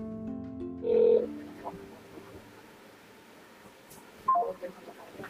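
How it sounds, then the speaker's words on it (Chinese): A single telephone keypad tone sounds clearly near the start while a number is dialed, followed by a brief second beep later, over a quiet background hum. "我哋尝试打俾 M 先生了解情况"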